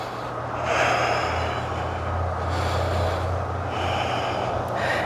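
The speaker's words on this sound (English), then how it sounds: "We'll take that nice deep cleansing breath in through the nose, out through the mouth." Slow, deep breaths drawn in through the nose and let out through the mouth during a dynamic yoga flow, two long airy swells, close and soft over a low steady hum, with no talk.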